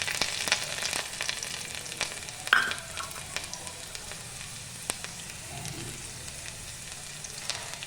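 Chopped garlic fries in hot mustard oil for a village-style cauliflower leaf curry, a steady soft sizzle with occasional stirring clinks, close and continuous with no talking.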